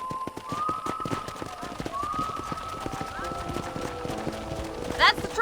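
Horse hooves clip-clop at a steady walking rhythm beside a corral in the Red Dead Redemption game, close and clear, under continuous speech with a brief brighter burst near the end.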